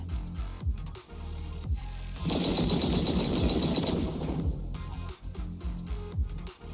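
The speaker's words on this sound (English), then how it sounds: "That was the sound of a heavy cannon?" A sustained burst of heavy, rapid cannon fire in the video game Zenless Zone Zero erupts for a couple of seconds, loud and dense, then gives way to quieter rumbling game sounds.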